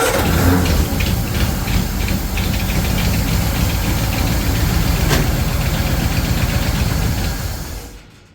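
Barn-stored 1936 Ford 8BA flathead V8 running roughly after years of sitting, a loud, close, steady knocking chug that fades out as the engine dies near the end.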